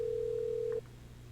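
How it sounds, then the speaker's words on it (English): A single steady electronic tone from an office phone in a scary video game, holding clear and even for under a second before cutting off abruptly, with no talk over it. "this is the office phone. Whose phone sounds like that?"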